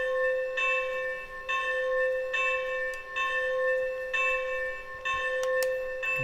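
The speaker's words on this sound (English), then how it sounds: "And so here is the engine's bell." A Lionel Baby K4 model train engine with LionChief Plus 2.0 rings its bell in a steady repeating pattern, each clang about a second apart, clear and close with no talking.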